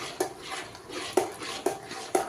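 A spoon stirs and churns cream in a metal pot to make butter, with repeated clinks against the pot roughly every half second over a soft, wet swirling sound.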